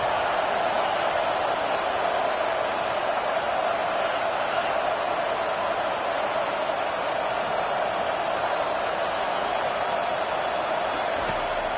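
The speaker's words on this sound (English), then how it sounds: "Decibels rising as the crowd gets behind this defense on 3rd down." A stadium crowd at a Tennessee vs Auburn college football game roars steadily on a third-down defensive stand, a dense, unbroken wall of distant cheering noise.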